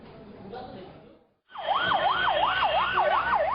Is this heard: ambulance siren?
yes